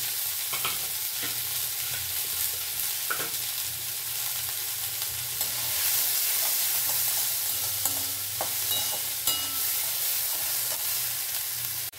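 Chopped onion, garlic and green chilli sizzle steadily in hot oil in a wok, a continuous loud crackle with occasional sharper pops and stirring clatter, no voices.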